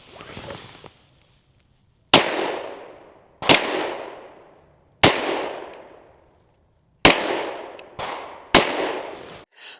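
An HK CC9 pistol fires 9mm rounds, and six sharp, loud reports ring out at irregular intervals of one to two seconds. Each shot has a ringing decay that trails off, and the last two come close together. No one speaks.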